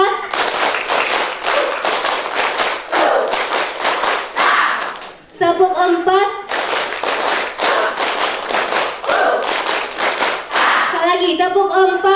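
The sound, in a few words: rhythmic group clapping game (tepuk)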